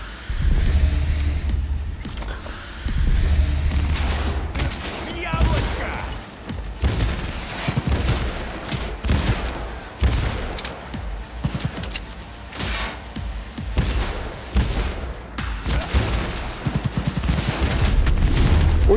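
Rapid volleys of smart-gun fire in Cyberpunk 2077 crackle and boom in dense waves, shots piling up in bursts over a continuous rumbling background.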